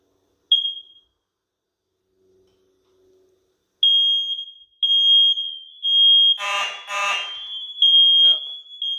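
A home combination carbon monoxide and smoke alarm gives one shrill high-pitched beep, then a run of rapid piercing beeps close by, with a brief voice cutting in partway through.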